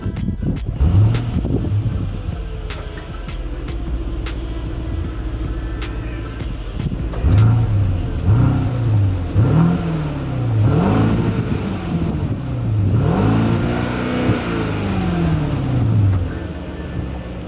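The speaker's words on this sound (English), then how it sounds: "Let me try to give you some rev shots of this V8 hybrid engine producing almost 490 horses." A Mercedes-Benz GLS 580 4MATIC with a V8 hybrid engine and electric boost revs repeatedly, each rise and fall in pitch coming in rhythmic waves over steady wind buffeting on the microphone.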